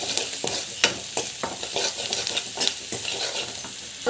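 Greens curry mixture seasoned with salt and asafoetida being sautéed, a continuous close sizzle broken by repeated spoon scrapes and stirs against the pan at an uneven, unhurried pace.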